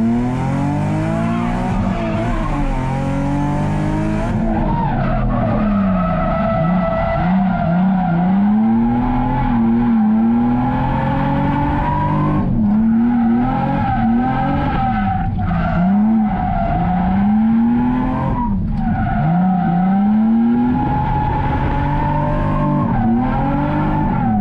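Drifting cars in a sim racing session, including an IS300, with loud continuous tire squeal and skidding over revving engines, the screech rising and falling in long sweeps throughout.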